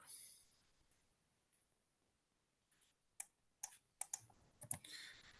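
Computer mouse clicks in the Koha library management software come as a handful of sharp, isolated clicks near the end, close and faint against an otherwise almost silent room.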